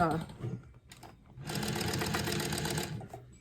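A sewing machine stitches a patch onto a letterman jacket, its close, steady mechanical whir running continuously through the second half after quieter handling and a voice at the start.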